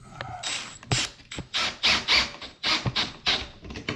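Kreg 1¼-inch soft plywood screws are driven into cabinet door stock in a quick series of short, close whirring and ratcheting bursts with brief gaps between them.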